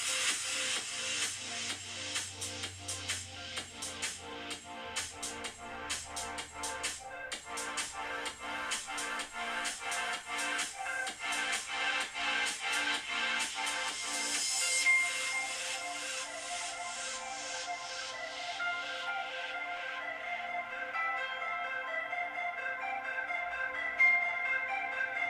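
An iPhone X's front earpiece speaker plays music loudly and continuously, a dense, bright sound that fills the whole stretch with no talking, then thins out toward the end.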